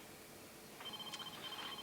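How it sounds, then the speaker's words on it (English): A telephone starts ringing partway through in a quiet domestic room, its electronic tone steady and moderately loud against faint background hum, with no speech. "Is that the phone?"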